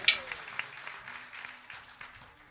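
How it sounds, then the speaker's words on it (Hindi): Applause from a gathered audience at a Guru Purnima gathering, a short scattered burst of clapping that starts sharply, then thins and fades over a couple of seconds, fairly distant and moderate in level. "एक बार जोरदार तालियां।"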